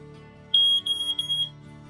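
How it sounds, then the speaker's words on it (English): A smoke alarm lets out a piercing high-pitched beep lasting about a second, loud and close, in an otherwise quiet room. "I think it's a smoke detector up here that does work"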